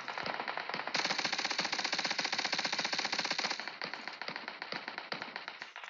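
Sustained automatic MP5K fire from PUBG Mobile rattles in fast, even bursts, shots hammering at a buggy nearly without pause for several seconds before easing into shorter strings.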